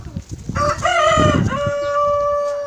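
A rooster crows loudly and close at a Cossack farmstead yard, its long call stretching over soft clucking from nearby chickens, with no talking.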